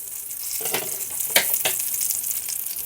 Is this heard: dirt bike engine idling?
no